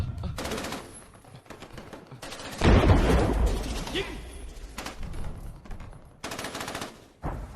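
Battlefield gunfire from a war film set on Iwo Jima during the Second World War: bursts of rapid machine-gun fire and single shots, with a heavy boom near the middle, mixed with shouting voices.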